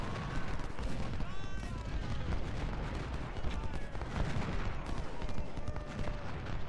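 Massed rifle volleys and battlefield gunfire from the Civil War strategy game Ultimate General: Civil War at Cedar Mountain, a dense, continuous crackle of distant and near shots layered with rumbling, under occasional talk.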